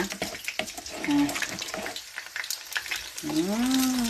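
Battered sea crab deep fries in oil, a close, steady crackling sizzle with stirring and bubbling, while someone talks over it.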